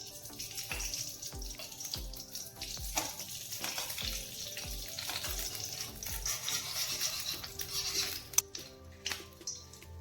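Two spoons of desi ghee melting in a hot pan while making flaxseed laddu, giving a low steady sizzle with scattered clinks and taps of a utensil against the pan.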